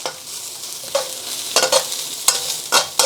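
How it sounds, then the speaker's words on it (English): Garlic frying in a pan alongside mushrooms, a constant bright sizzle broken by several sharp scraping stirs of a utensil, close and fairly loud with no speech. "Then the garlic. Just get that cooking."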